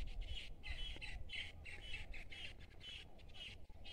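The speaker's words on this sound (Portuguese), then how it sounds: "Olha só o canto dos pássaros." Birds call at dusk on a rural farm, repeatedly in short, bright bursts with brief gaps, a steady chorus of squawks and chirps at moderate distance over a low background hum.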